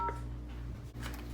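Telephone keypad tones ring out as a call is placed to Ford's reacquired vehicle line: a few short, quiet dialing beeps over a steady low electrical hum.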